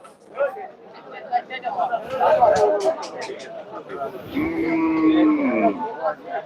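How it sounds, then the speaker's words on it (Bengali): Cattle at a crowded Eid sacrifice livestock market in Hathazari, Chattogram: a loud drawn-out moo rises near the middle and end, over a busy hubbub of people talking nearby. "প্রত্যেকটা শেডের মধ্যে কিন্তু যথেষ্ট পরিমাণ গরু দেখা যাচ্ছে এখানে"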